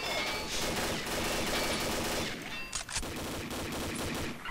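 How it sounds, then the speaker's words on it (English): Sustained gunfire in the Combat Arms shooter game, a dense, loud wall of rapid shots with a short dip before the firing resumes. "Okay, taking fire."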